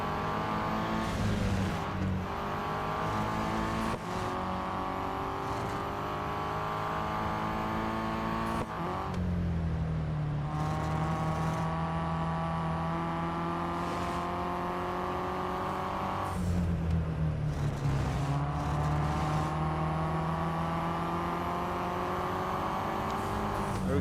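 Race car engines from the Real Racing 3 game roar steadily and loudly, with high-pitched engine tones that rise and fall as the cars shift gears through the lap.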